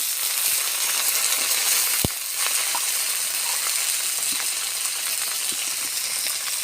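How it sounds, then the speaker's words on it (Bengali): Potato pieces fry in a pan with oil, a steady close hiss and crackle running throughout, with a single sharp click around the two-second mark. "এবার আমি আলুগুলো ভেজে দেবো"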